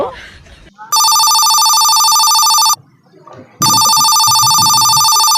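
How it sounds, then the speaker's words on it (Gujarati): A telephone rings with an incoming call in two long, loud electronic ring bursts separated by a short gap, with a person talking briefly before the first ring. "ફોન આવે છે ઉપાડ તો ખરી"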